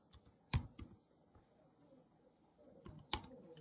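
Computer keyboard typing while working in Trello, with a few scattered soft key clicks and two sharper keystrokes, one near the start and one near the end, the later one likely the Enter key, close and quiet.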